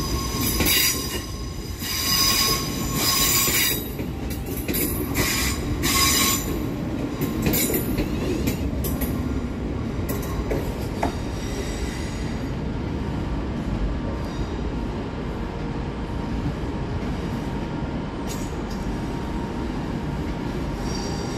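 West Midlands Railway trains arriving and departing at Birmingham New Street station, with diesel units 220001 and 221124 pulling out, as loud wheel squeal, rumbling engines and rail noise fill the platform continuously.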